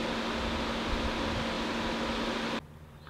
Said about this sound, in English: I've got a blower fan going in the shop